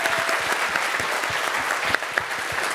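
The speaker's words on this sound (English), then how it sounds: "let's give Shane a big round of applause for what he's achieved" An audience applauding steadily at a talk event, dense continuous clapping from many hands held at an even, moderately loud level, with no speech over it.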